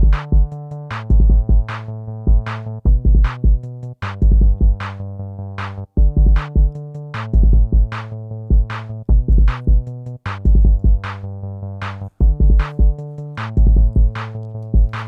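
A punchy drum groove with kick and crisp hits repeats in bars over a sustained synth bass chord part, with little low bass, no voices.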